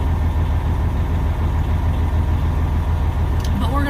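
A heavy truck engine runs at a steady idle, a loud low rumble that holds unbroken throughout, with a brief voice surfacing near the very end.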